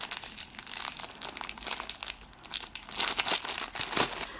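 Plastic wrapping on a package of cross-stitch canvas and accessories crinkles and tears near and loud, in continuous irregular rustling bursts with no talking.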